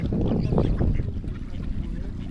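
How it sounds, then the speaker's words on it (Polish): Ducks at a pier, a family of adults with four young, giving a few nearby quacks and honking calls over outdoor background noise. "To nawet jedna odważna kaczka na pomost weszła."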